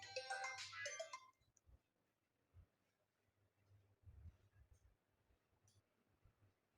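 A phone ringtone chirps loudly for about a second near the start, then fades to quiet room noise with faint bumps and handling sounds.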